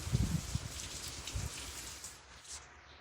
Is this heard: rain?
yes